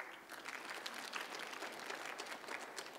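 Conference applause fills a hall at a 25 Years of Democracy event, a soft, somewhat distant crowd clapping with scattered individual claps standing out over a steady patter.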